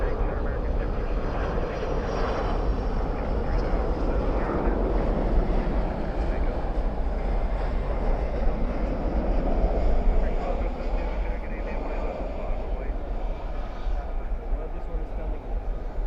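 At night at Dallas/Fort Worth airport an airliner lands with spoilers up and thrust reversers deployed, a distant broad roar that swells slightly and then fades, alongside wind noise and someone talking.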